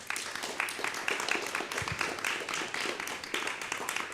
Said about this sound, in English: So I think both our guests need serious applause.